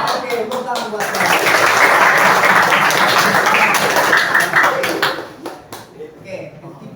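A classroom of students bursts into a few seconds of loud, sustained group clapping on the teacher's raised-hand signal, then it trails off into scattered claps and quieter room noise.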